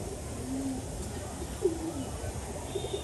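A young pigeon gives a few soft, low coos, brief and faint, against steady background noise.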